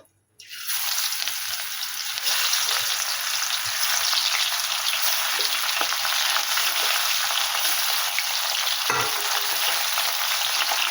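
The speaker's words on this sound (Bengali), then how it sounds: "তেল গরম হয়ে গেছে, এবারে মাছগুলো ভেজে নেব।" Parshe fish hits hot oil with a sudden burst of sizzling that settles into a loud, continuous crackling fry close by.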